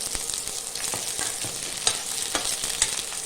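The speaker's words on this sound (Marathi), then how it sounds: "हे आता आपण कांदा परतून घे" Onion sautés in a pan with cumin for a sprouted moth bean khichdi, making a continuous close frying sizzle broken by several stirring scrapes of a spoon.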